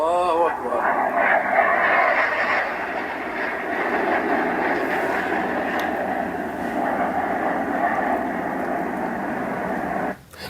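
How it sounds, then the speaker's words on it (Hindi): A US fighter jet flies low over Palmyra, Syria, producing a loud, steady roar that holds for about ten seconds before cutting off abruptly near the end. "अमेरिकी फाइटर जेट सीरिया के पलमायरा के ऊपर कम ऊंचाई पर उड़ान भरते हुए"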